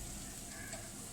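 Steady, crackling hiss of hot oil sizzling in a pan, even and continuous with no voices.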